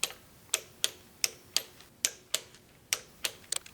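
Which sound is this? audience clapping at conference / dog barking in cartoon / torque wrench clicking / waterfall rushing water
torque wrench clicking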